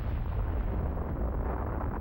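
Massive atomic bomb blast heard as a continuous deep, dense roar with heavy low rumble, sustained and loud throughout without any voices.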